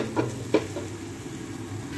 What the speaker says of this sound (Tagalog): Ito na nga, ginigisa na natin ang ating sibuyas.